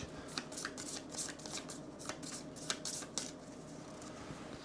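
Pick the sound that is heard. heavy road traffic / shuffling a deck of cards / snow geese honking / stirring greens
shuffling a deck of cards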